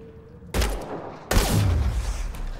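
Gunfire in the video game Mass Effect Andromeda, with two loud, close shots or blasts, each followed by a sustained rumbling boom and crackle.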